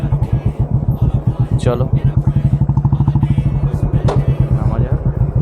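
A motorcycle engine idles with a fast, even putter close by at a hilltop viewpoint parking spot, while a voice speaks briefly over it.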